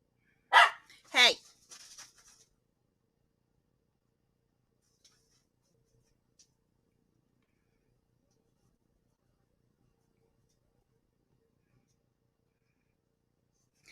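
Two loud, close dog barks right at the start, followed by some panting-like breaths, then near silence with a few faint ticks.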